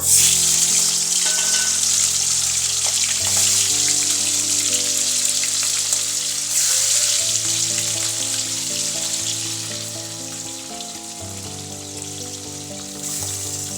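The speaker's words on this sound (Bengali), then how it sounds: "এবার ভেজে নেব তেলের মধ্যে এক একে মাছগুলো ছেড়ে দেবো" Fish pieces, rubbed with salt and turmeric, sizzle and spit steadily in hot mustard oil in a covered pan, a dense, continuous close frying hiss with no talking.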